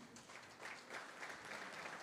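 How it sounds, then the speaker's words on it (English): Faint, distant applause from a crowd at a National Heroes Day award ceremony on the Sister Islands, a steady wash of clapping for an honoree whose family member accepts on his behalf. "Big applause there for Captain Linnell Sheridan Walton"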